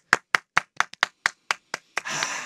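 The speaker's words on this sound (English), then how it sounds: "And the crowd goes wild" A crowd claps in a series of sharp, evenly spaced hand claps, about ten in a row, before breaking into a broader burst of applause and cheering at the end.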